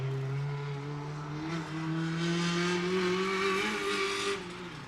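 A loud drift car at a GripStarz event, its exhaust left disconnected from the manifold, holds a steady raw engine drone with rising revs and a faint tire hiss, heard nearby and without talk.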